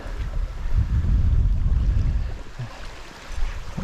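Steady wind roars and buffets across the microphone during fly fishing, a low, dense rumble that swells and eases over a few seconds with no voices.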